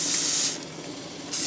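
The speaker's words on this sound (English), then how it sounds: "Alright, so then you just spray it on" Organic canola cooking spray hisses from an aerosol can in a kitchen, with two close bursts: a longer spray, a short pause, then a second spray starting.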